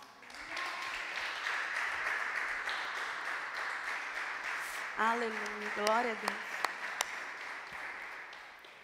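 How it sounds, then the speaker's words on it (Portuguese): A church congregation claps in sustained, fairly quiet applause while a preacher speaks over it. "Você pode glorificar ao Senhor Deus com as suas palmas?"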